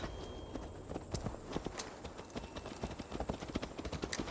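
Horse hooves clip-clop at a steady walking rhythm in the Assassin's Creed Valhalla video game, a close, continuous run of hoof strikes over a low background hum.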